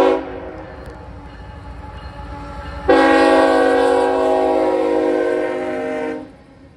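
Long Chicago-to-Selkirk freight train M368 with distributed power passing Voorheesville, a loud, steady horn blast cutting in partway and holding for several seconds over the continuous rumble of the rolling cars.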